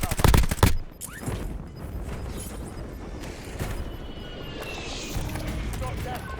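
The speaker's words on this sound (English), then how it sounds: "Enemy precision airstrike." An enemy precision airstrike in the Warzone shooter game, a loud burst of rapid explosive blasts at the start, then a rumbling aircraft pass and scattered distant impacts, with a voice speaking over it.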